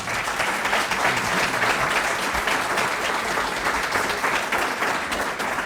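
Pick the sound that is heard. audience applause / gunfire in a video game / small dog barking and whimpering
audience applause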